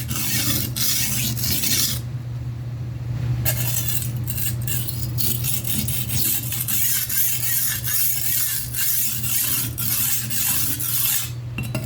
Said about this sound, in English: it definitely needs sharpening. You can hear it. I mean, it's making a grinding noise all the way from one end to the other.